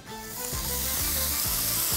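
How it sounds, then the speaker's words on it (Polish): Bacon lands in a hot, sizzling pan and fries with a loud, constant crackling hiss that holds steady and close, with a low rhythmic rumble underneath. "Patelenka rozgrzana, wrząca, na nią trafia boczek."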